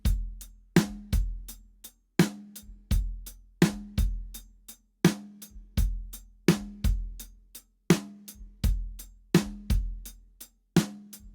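Drum kit playing the main groove of a song, a steady repeating pattern of punchy kick and snare hits with closed hi-hat, close and clear with no talking.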